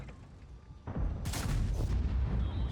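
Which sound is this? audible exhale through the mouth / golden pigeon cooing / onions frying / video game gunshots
video game gunshots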